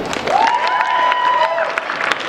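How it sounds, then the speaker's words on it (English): Audience applause at a comic convention cosplay contest, a steady wash of clapping from a crowd sustained for about two seconds, with a tonal whistle or squeal sliding over the top. "All right, round of applause if you liked it."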